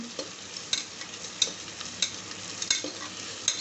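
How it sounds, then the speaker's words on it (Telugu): Food frying in a pan while being stirred until it turns brown, a close crackling sizzle broken by frequent sharp spoon scrapes and taps in an irregular rhythm, with no talking. "బాగా వేగనిద్దాం ఒక ఫైవ్ మినిట్స్ బ్రౌన్ కలర్ వచ్చేంత వరకు వేపుకుందాం"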